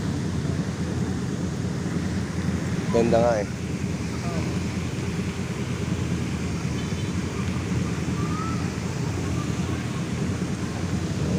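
Water waves wash in a steady, continuous rush outdoors, mixed with wind buffeting the microphone. A few voices speak briefly over the sound.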